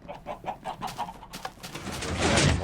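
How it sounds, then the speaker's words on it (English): Chickens clucking on a chicken farm in Minecraft, a run of short repeated clucks at moderate distance, building into a louder dense burst near the end. "there's a new chicken farm, which is working well"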